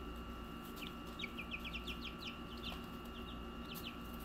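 Adult chickens outdoors, a series of short clucks and chirpy calls heard faintly through background hum, indoors beside a brood of two-week-old chicks.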